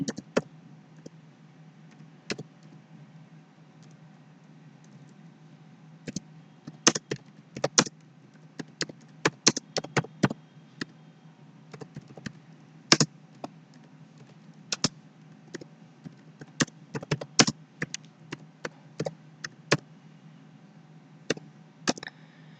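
Keys clatter on a computer keyboard as a narration is typed into Tally accounting software, sparse at first, then in quicker bursts of crisp clicks over a steady low hum.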